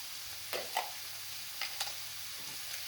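Vegetables and meatballs with pine nuts being stir-fried in a pan: a soft, steady sizzle with a few brief scraping clicks of stirring.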